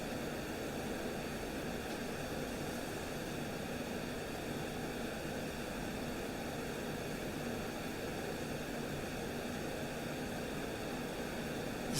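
Radar jamming static in a MiG-29 cockpit in the DCS combat flight game, a continuous broadband hiss with faint tonal hum, steady and unbroken, with no talk.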